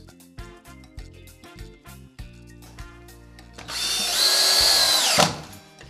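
A power drill drives screws into wood framing for an archway, with several short whirring bursts and then a longer, louder run of drilling that ends abruptly, all close up.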